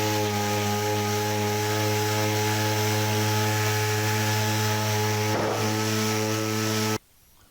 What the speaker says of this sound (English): Now we can go back to sanding.